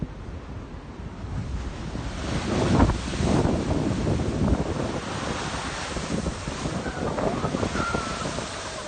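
Giant ocean waves crash on the Boston shore after a storm, a broad roaring surf that swells and breaks heavily around the middle, mixed with strong wind buffeting the microphone.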